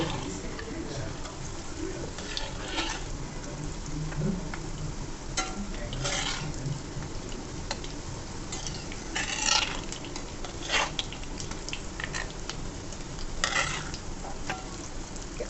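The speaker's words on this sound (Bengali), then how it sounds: "এখন কাবাবগুলো ভেজে নিব তেল গরম হয়ে গেছে" Raw jackfruit kebabs frying in hot oil with a steady crackling sizzle, plus occasional stirring and utensil clinks; a voice talks intermittently over it.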